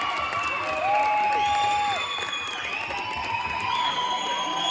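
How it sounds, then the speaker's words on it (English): A crowd cheers, whoops and shouts at a boys' varsity basketball game in a gym, a loud sustained roar with high-pitched voices and whistles rising above it. "You get some of the loudest cheering you'll ever hear"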